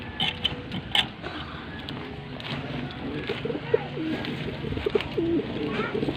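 Pigeons coo repeatedly in low soft calls amid a busy loft setting, with scattered clicks and rustles and a steady background hum.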